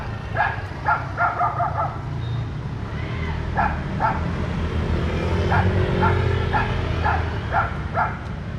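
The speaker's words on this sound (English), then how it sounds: "He's barking at me again." Dog barking repeatedly in short bursts of several barks, mid-distance, over steady road and traffic noise during a bike ride between Tam Coc and Ninh Binh, Vietnam.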